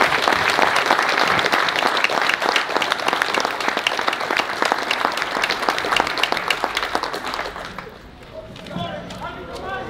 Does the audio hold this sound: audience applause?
yes